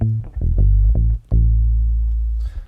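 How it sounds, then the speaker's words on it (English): Bass guitar played through a Magnatone amp, a few deep plucked notes ringing out with a round low end, close and alone. "I've been using a Magnetone a lot for bass recently, and I love it. It sounds like this."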